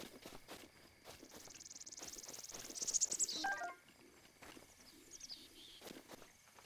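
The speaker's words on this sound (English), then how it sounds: "I hear a lot of bird sounds for a place with absolutely no fucking birds." Ambient birdsong in the video game Zelda: Breath of the Wild, with cooing and a bright chirping call rising then cutting off, over faint insect-like chirring and soft background ambience.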